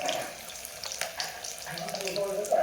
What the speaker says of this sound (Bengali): মিডিয়াম গরম তেলে ভেজে নিচ্ছি